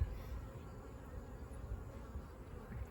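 Honeybees still raising brood in a single brood chamber hive in late August, buzzing as a low, steady drone at close range, faint and continuous with slight fluctuations and no talk.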